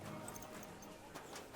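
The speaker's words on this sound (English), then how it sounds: "Some horses." Horses clip-clop steadily in the medieval video game Kingdom Come: Deliverance II, a soft, distant rhythm of hoofbeats under faint background ambience.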